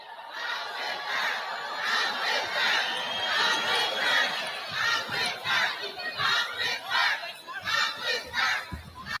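A crowd on its feet at a live interview event with Donald Trump, cheering and shouting loudly and continuously, with swelling bursts of whoops and yells across the whole stretch.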